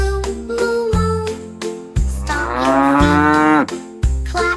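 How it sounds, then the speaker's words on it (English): A single long cow moo rises and falls in the middle, set against a bouncy, rhythmic children's song beat that thumps steadily before and after it. "Baby cow, moo, moo, moo."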